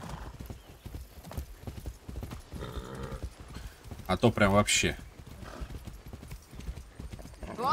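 Horse hooves clip-clop steadily in a Far Cry 6 video game scene, with a loud neigh and whinny rising briefly in the middle while someone talks over the riding.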